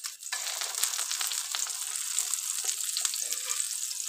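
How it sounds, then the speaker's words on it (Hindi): An egg omelette frying in a pan gives a steady, close hiss of sizzling that holds evenly throughout, with no talking. "अब हम इसकी दूसरी साइड अच्छी तरह से फ्राई कर लेनी है।"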